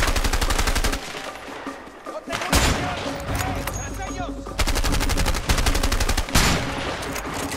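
Bursts of rapid automatic gunfire from the co-op prison-break game A Way Out, loud and close, alternating with brief gaps where voices talk over the action.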